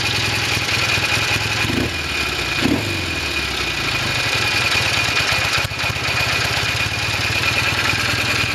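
A Norton Commando 750 motorcycle with twin Amal carburettors idles steadily nearby, a continuous even engine throb with a couple of brief blips of throttle early on.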